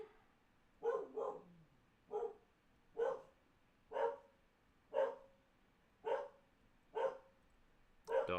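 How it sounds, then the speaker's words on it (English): A dog barks repeatedly in a steady rhythm, about one bark per second, moderately close and loud, in a room where a 1/72 scale Takom Object 279 model is being built. "Dog freak out."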